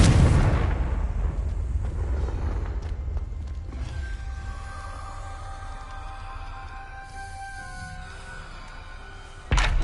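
A Confringo spell blast in the Hogwarts Legacy video game, a loud deep explosion with a rumbling boom that slowly fades into a lingering tonal shimmer, then a sharp new impact right at the end.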